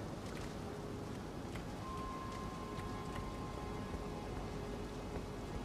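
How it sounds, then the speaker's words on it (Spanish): Steady rain from the video game Elden Ring, a dense continuous hiss pouring down at constant loudness with occasional soft rumbles, heard alone. "Porque llueve, ¿no? Y hay mucha humedad"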